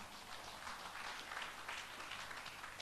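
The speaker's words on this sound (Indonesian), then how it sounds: "Tepuk tangan dulu bagi Tuhan" A congregation at a Sunday church service in Indonesia applauds in a dense, steady patter of many hands that continues evenly and sounds fairly distant.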